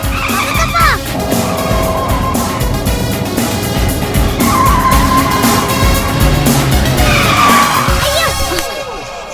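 A car brakes hard in a movie scene, its tires skidding and squealing loudly over the road in several drawn-out screeches for most of the stretch before the noise tapers off.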